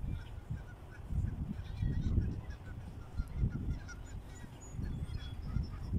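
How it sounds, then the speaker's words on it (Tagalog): Geese honk repeatedly in short, low bursts in summer in Edmonton, Canada, a flock calling on and off over steady outdoor background noise. "Parang may ano, tumutunog na ibon."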